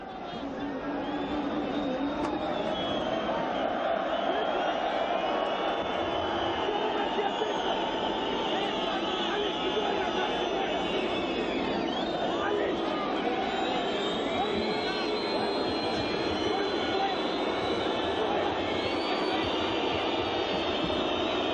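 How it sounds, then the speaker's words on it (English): A stadium crowd roars continuously at an AFC Champions League 2021 round-of-16 football match between FC Istiklol and Persepolis. The broad, unbroken wash of noise holds steady throughout, with commentators talking over it. "Crowd really not letting up, are they?"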